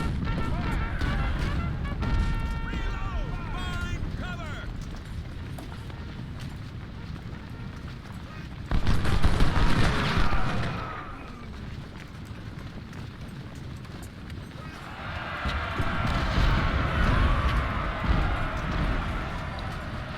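Cannon and gunfire rumble through a Civil War battle in Ultimate General: Civil War, with booming artillery and crackling musketry that swell loudly midway and again near the end, amid hoofbeats and battle din.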